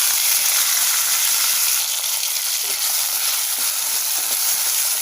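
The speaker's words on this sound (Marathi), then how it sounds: "मी घेतलेली आहे नॉनस्टिकची कढई आणि त्यात टाकलेलं आहे 1 चमचा तेल" Cubed potato, tomato and four chillies fry in a spoonful of oil with cumin in a non-stick kadhai, giving a steady, loud, close sizzle and hiss that runs evenly throughout with no talking.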